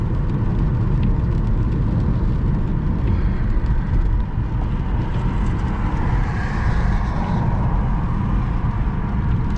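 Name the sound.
car driving on Vladivostok avenue out of the city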